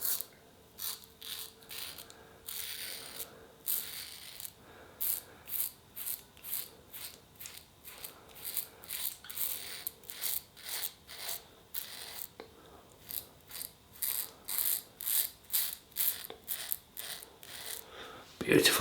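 A Merkur Futur DE safety razor on its most aggressive setting 6 scrapes through stubble in rapid, crisp rasping strokes, each a short bright burst with brief pauses between, close and fairly quiet.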